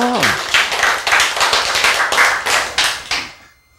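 A small group claps in distinct, rhythmic bursts of about seven strong beats, loud and close, before trailing off into quiet at the end. A voice is heard at the very start.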